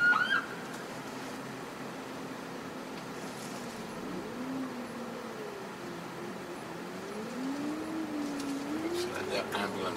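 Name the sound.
ambulance siren passing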